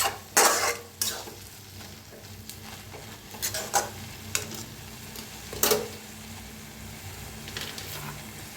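Fenugreek leaves being stirred in a kadhai for a dry methi dish, soft sizzling beneath irregular scrapes and knocks of a spoon against the pan, close and fairly quiet.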